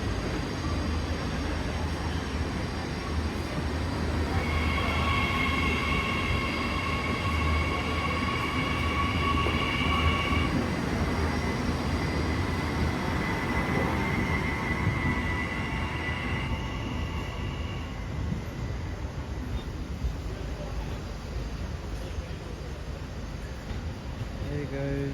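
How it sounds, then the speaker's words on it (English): A train rumbles past a station platform at Central, a steady broadband roar with some high wheel squeal and screech above it. The train is fairly close, and faint voices are heard. "There goes the train that's been causing delays and chaos."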